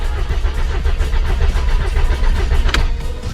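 Rebuilt Volkswagen engine running right after start-up, a loud, close, uneven chugging idle with a rhythmic low pulse and one sharp brief click near the end.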